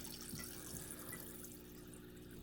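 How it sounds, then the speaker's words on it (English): Tap water runs steadily into a rock tumbler barrel, a soft continuous trickle and splash with no pauses. "That's why I turn the water way down."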